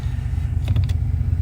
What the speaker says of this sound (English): that click, what that's doing is it's activating the brake light